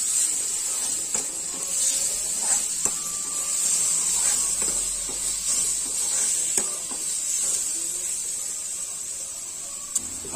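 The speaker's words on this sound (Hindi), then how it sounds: "जैसे ही हमारा हल्दी और नमक जाता है टमाटर पे, देखिए जलने लगता है टमाटर, देखिए पकने लगा हमारा टमाटर" Tomatoes dusted with turmeric and salt sizzle in a hot pan with a steady, bright frying hiss, broken by occasional soft pops and clinks of a utensil.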